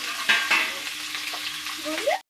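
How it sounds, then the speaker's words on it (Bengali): Mutton curry being stir-fried in a pan, a close steady sizzle with a few sharp spoon scrapes near the start before it cuts off. "আর কষে দাও হালকা করে, হালকা করে একটু কষে দাও"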